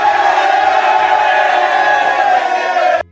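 A footy team in the rooms after a game lets out a loud, sustained roar of cheering and shouting voices that holds steady for about three seconds, then cuts off abruptly.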